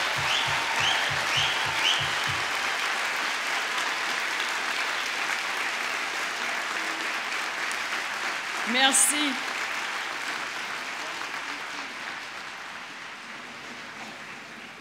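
A large audience at a graduation ceremony bursts into sustained applause for the graduating class, the dense clapping fading gradually over several seconds, with a brief spoken word and a short voice break near the middle.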